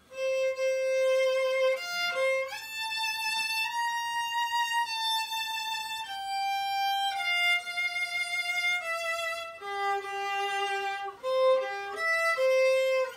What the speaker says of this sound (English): the trio if you like, which is a waltz version of the idee fixe